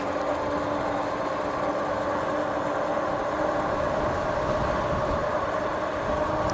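A Velotric GoMad e-bike's tires roll and whir on pavement during a ride, a constant steady drone with a faint tonal hum from the quiet rear motor, close and unbroken.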